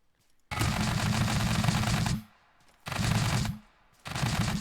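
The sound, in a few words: machine gun firing in video game Scrap Mechanic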